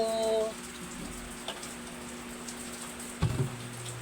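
Steady, faint patter of rain falling throughout, with a brief knock partway through and no talking.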